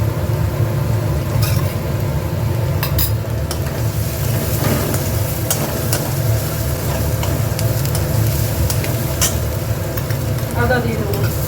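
Chopped garlic sizzles loudly in a hot pan while being stirred, with a steady close frying hiss and scattered scraping of the spoon throughout.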